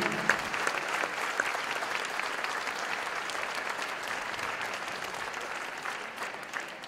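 A basketball crowd at a girls' high school game applauds to honor veterans, steady dense clapping filling the gym from start to finish, loud and sustained with no talking over it.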